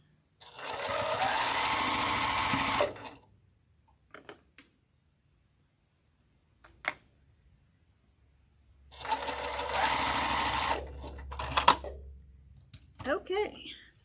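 A sewing machine pieces a quilt block in two brief, loud runs of fast stitching separated by near silence, with light handling clicks and someone speaking in between.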